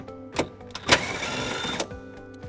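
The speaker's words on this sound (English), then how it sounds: "We're going to remove that bolt using a 10mm socket." A power tool with a 10mm socket spins out a bolt on a 2016 Toyota Sienna, two or three short close mechanical whirring bursts with a longer run in the middle, amid light handling clatter.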